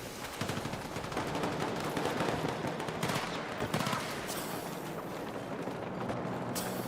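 Gunfire in the shooter Escape from Tarkov: rapid, dense bursts of automatic shots crackle through the whole stretch with a few sharper reports, fairly loud and close, with no talking.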